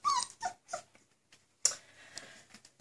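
A puppy whimpers in short, high whining cries, three quick ones followed by a pause, then a sharper yelp and softer whines, close by.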